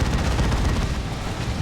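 Venom Cannon firing in Warhammer 40k: Dawn of War 2 during a 2v2 match, a dense rattling barrage of rapid shots layered with battlefield booms, steady and loud throughout.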